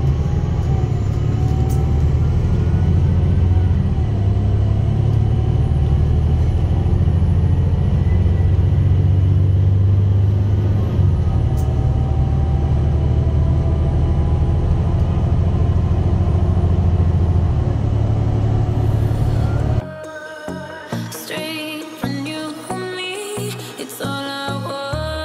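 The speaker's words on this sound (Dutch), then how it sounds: "het geluid van deze bus is een oude gillende versnellingsbak" An old ex-GVU bus drives along with a loud steady engine rumble and a high, drawn-out whine from its worn gearbox running over it for about twenty seconds, then the engine noise drops away to quieter clattering sounds.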